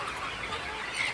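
Chickens on a local poultry farm, kept indoors on a cloudy rainy day, cluck softly at a distance under a steady hiss of background noise.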